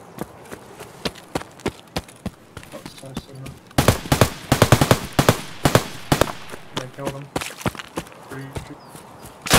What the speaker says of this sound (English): Shots on my left.